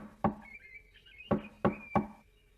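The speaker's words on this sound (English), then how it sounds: "she knocked as hard as she could" Hard knocks on a wooden door in a Goldilocks story: one heavy thud, a pause, then three quick forceful knocks, close over a faint musical tone.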